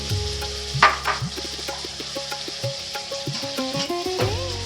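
Colocasia pieces with onions and turmeric frying in a pan, a steady sizzle with frequent light clinks and scrapes of a spoon stirring, close and moderately loud, with no talking.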